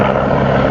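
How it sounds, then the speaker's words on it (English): Helicopter engine noise, a loud, steady mechanical drone with a dense low rumble that stays constant and close throughout the short stretch. "So I'll try and turn down the chopper engine noise."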